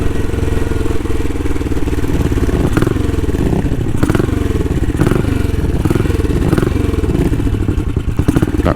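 A classic motorcycle engine runs close by, loud and continuous, with a rough mechanical clatter and slight rises in revs throughout.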